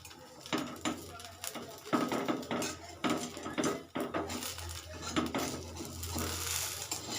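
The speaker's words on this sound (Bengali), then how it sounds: "এবার ঢাকনাটা খুলে এটাকে আমি তুলে নেব" A metal lid lifted off a pan and a fried semolina-vegetable snack scooped out, heard as a close series of clanks, scrapes and utensil clinks against cookware with a low background hum and no speech.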